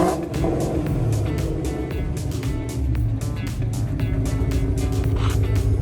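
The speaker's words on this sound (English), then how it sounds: "Give us some revs." The engine of a wrecked 2015 Ford Mustang GT is revved hard and close, a loud continuous roar with rising and falling pulses that never drops off.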